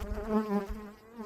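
Honeybees buzz on a hive frame during an inspection, a close, brief, wavering hum with rising and falling pitch, fairly soft and with no talking.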